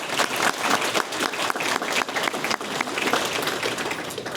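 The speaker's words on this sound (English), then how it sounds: "Please give yourselves a round of applause for that." A crowd applauds steadily at an awards gala, a dense, continuous patter of many hands clapping at an even level throughout.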